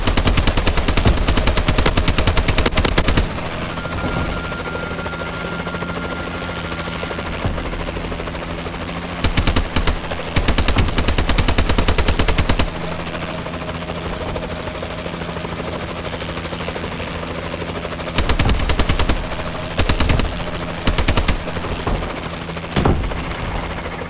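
Warbird aircraft in Call of Duty Advanced Warfare multiplayer, loud rotor-like engine drone with repeated bursts of rapid automatic gunfire cutting in and out over the hum.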